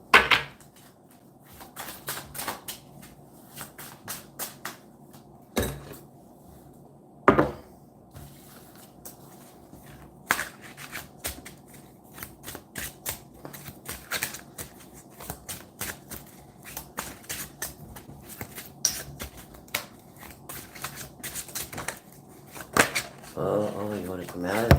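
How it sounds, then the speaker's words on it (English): A tarot deck being shuffled by hand during a live card reading: a steady run of soft papery riffles and flicks over about twenty-five seconds, with occasional sharper slaps and a faint background hum. "First, let me shuffle."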